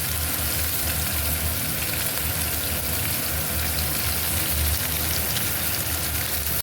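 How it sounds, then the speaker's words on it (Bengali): Fish fries in hot oil, giving a continuous dense crackling sizzle at steady loudness with no talking. "মাছ ভাজা হচ্ছে।"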